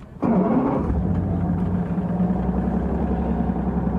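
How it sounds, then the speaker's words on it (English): The engine of a RIB boat starts with a sudden turnover and then settles straight into a steady, loud, low idle, running close by with no talking over it. "and then we're able to start the engine."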